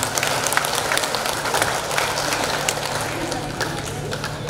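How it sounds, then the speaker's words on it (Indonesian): An audience at an umrah pilgrimage guidance session applauds with dense, steady clapping that carries evenly throughout, with faint voices mixed in beneath. "mari kita aplaus dan tepuk tangan"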